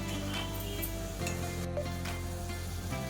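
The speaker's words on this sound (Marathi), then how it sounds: "20 मिनिटं आपल्याला हे आता असंच परतत राहायचं" A coconut and sugar mixture is stirred in a pan as it cooks, with a steady soft sizzle and faint scraping under a continuous low hum, no pauses.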